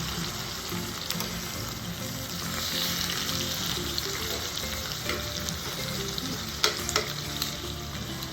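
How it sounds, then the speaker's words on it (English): A steak searing in a pan after being flipped, a loud continuous sizzle and crackle of frying with a few sharper pops and clinks, and no voices. "gonna flip my steak"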